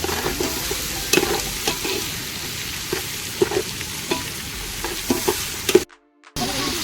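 Onions fry until golden in a large batch being cooked for fifty or sixty people, a dense close sizzle with repeated spatula scrapes and stirring knocks, briefly cut to silence near the end.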